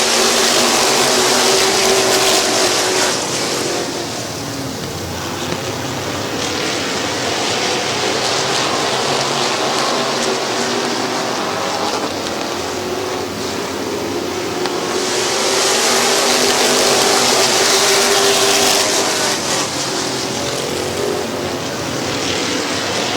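A pack of race cars at Midvale Speedway roars past under green flag, a loud, continuous engine drone that surges and swells twice as the field passes nearby, with no talk.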